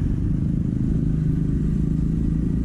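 A Honda Forza 250 scooter's engine drones steadily and loudly from close by as it pulls forward under a little throttle, with no talking.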